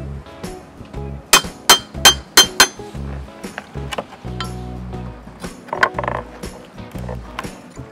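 Metal crowbar and hammer striking wooden concrete formwork on a cast post: a quick burst of four or five bright ringing clanks, then softer scattered knocks and scraping, close and loud, without talk.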